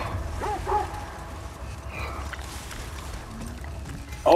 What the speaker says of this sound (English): Oh, I can control the dogs.